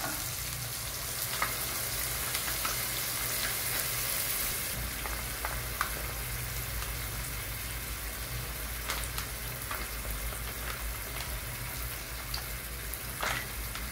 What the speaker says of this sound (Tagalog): Lagay na natin yung gata.